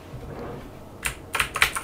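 Computer keyboard keys pressed while playing the game MASK on an Amstrad CPC, a few quick clicky taps coming in a short cluster after a quiet stretch, fairly close and alone.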